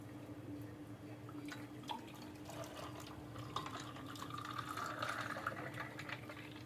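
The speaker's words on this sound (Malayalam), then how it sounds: "പാൽ പോലൊരു നാരങ്ങ വെള്ളം അരിച്ചെടുക്കാം" Coconut-milk lemonade with ice cubes strained into a vessel, a steady faint trickle with scattered soft drips and light clinks, close and without talk.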